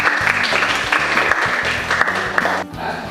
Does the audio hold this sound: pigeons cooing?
no